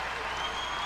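Dense applause from a volleyball crowd at a 1991 men's college match against USC fills the gym, steady and loud with broad, even clapping and no break.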